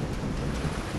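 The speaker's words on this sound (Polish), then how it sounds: "strzelają pioruny." Thunder rumbles in the island and shipwreck video game Call of the Sea as a deep, broad wash of noise mixed with wind and surf-like ambience.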